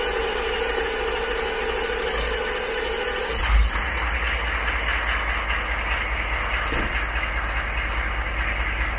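A diesel engine cranks over on a cold start after its glow plugs warm, a loud, steady, churning drone with a slight shift in tone a few seconds in, and no talking.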